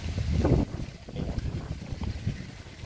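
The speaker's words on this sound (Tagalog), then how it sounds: "Medyo malakas ang hangin guys" Strong wind buffets the microphone in low, rumbling gusts, loudest at the start and then fluctuating unevenly.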